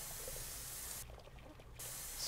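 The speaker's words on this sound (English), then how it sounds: "Spray some in that pipe because I can." A steady hiss of spray into a pipe in the video game Erie, heard as a continuous airy rush that briefly drops away in the middle and then resumes, fairly quiet with a low background hum.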